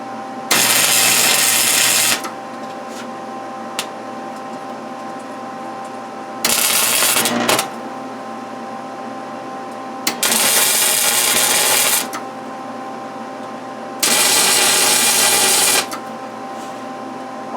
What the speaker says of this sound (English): So let's start tacking that together, and let's see how we do.